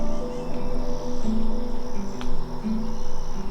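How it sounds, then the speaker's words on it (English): A steady, dense insect buzz drones close by, many bees swarming together at the base of an oak tree, humming without pause throughout. "there's a million bees right here at the bottom of this oak tree"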